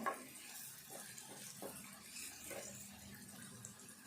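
Ridge gourd and other ingredients fry softly in a pan with a faint sizzle and occasional stirring, a steady low hiss heard alone at close range.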